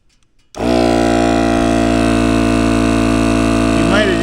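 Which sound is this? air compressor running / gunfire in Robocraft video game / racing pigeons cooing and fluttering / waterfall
air compressor running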